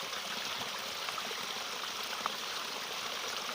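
Clear water flowing steadily from a spring in the woods, a continuous, close trickling rush with no pauses and no voices.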